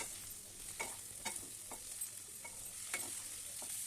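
A spatula scrapes through potato and eggplant curry in a pan in repeated rhythmic strokes over a soft, constant sizzle, heard fairly quietly and close.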